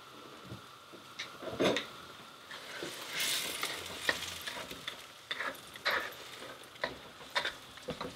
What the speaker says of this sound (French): Non, d'abord, on va mélanger.